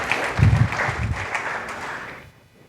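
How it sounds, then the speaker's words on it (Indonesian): A church congregation claps during an online worship service, a brief burst of enthusiastic applause that starts strong and tapers off quickly into quiet. "Yang yakin berikan tepuk tangan meriah buat Tuhan kita"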